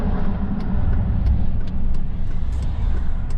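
A scrap-hauling truck drives toward a scrapyard, its low engine rumble and road noise steady and close throughout, with a few faint high squeaks or rattles over the drone.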